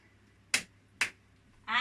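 Two sharp, separate hand claps about half a second apart ring out during a seniors' exercise-to-music routine, followed by the start of a voice.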